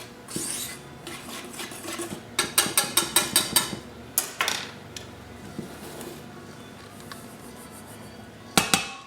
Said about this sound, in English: Sifted dry ingredients.